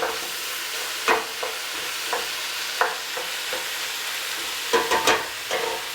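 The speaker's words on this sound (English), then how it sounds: "I give it a toss to start the meat, browning the meat" Ground meat browns in a pan for an Italian Bolognese ragu, a steady moderate sizzle broken by periodic sharp scrapes and tosses of a utensil, with a busier cluster of stirring strokes toward the end.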